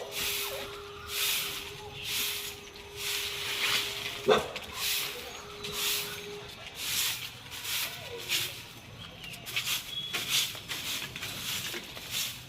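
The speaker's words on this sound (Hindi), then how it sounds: "वो बोल रहा कुत्ता आपके पास क्यों आ रहा है?" A dog indoors whimpers and gives soft, short yips and barks at a fairly quiet level, mixed with a person talking and light household noise.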